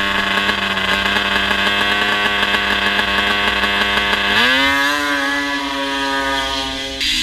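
Snowmobiles on wheels race at a grass drag event, engines screaming at a high, sustained pitch that jumps and then climbs as they rev and accelerate. The sound is loud and close, with no talking.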